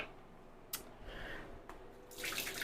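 Soaked red onions are strained at a sink, giving short wet splashes and drips followed by a brief rush of running water at the end, close and fairly quiet.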